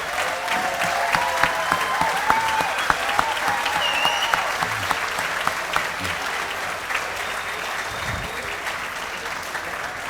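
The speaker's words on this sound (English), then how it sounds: "take a round of applause from everyone" An audience at a polo hall of fame induction ceremony gives a sustained round of applause, dense steady clapping filling the room for the whole stretch, with faint voices underneath.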